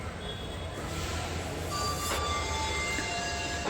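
A train runs at a railway station in Bangalore, making a faint, steady rumble of wheels and carriages for a few seconds, with a soft squeal and brief tonal pings in the background.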